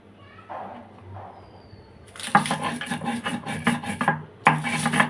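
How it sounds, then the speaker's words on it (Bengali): Dried chilies are ground with a little salt on a grinding stone, with close, repeated rasping strokes starting after a quiet opening, briefly pausing, then resuming. "আগে খুবই সামান্য পরিমাণ লবণ দিয়ে আগে মরিচটাকে বেটে নিচ্ছি"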